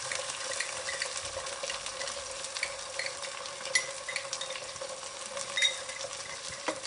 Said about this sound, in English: I put in, they are half caramelized, so I'm putting in the ginger garlic paste, which is like 2 teaspoons.